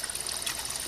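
Water from a fish-farm pond flows steadily into a masonry settling channel with aquatic plants, a continuous close trickling rush.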